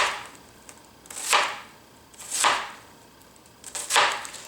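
Three spaced knife strokes cut through onion, each a brief crisp swish-and-chop burst close up, with quiet pauses between them.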